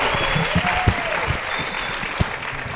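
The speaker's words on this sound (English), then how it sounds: "Colleagues, a round of applause to the fourth levels, please." A crowd at an International Nurses Day celebration claps steadily in dense, continuous applause that stays fairly loud and even throughout, with a few sharper individual claps standing out.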